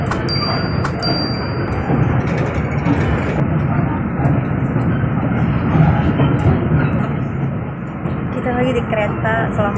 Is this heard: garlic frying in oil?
no